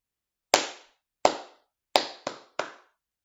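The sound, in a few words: class clapping pattern together, slow and fast claps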